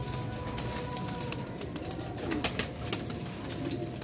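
Baby pigeons cooing softly and steadily over a constant background hum, with no talking.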